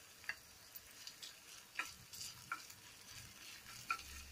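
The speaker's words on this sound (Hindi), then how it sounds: "इसे हम 1/2 मिनट तक पकाएंगे ताकि ये ब्राउन होने तक थोड़ा सा भुन जाए।" Finely chopped garlic with ginger frying in a pan, a faint soft sizzle with occasional light clicks and scrapes of stirring, quiet and close.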